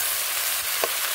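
Radish, beans, potatoes, eggplant and spinach frying together in a pan make a short burst of even, close sizzling hiss with one faint stirring scrape partway through.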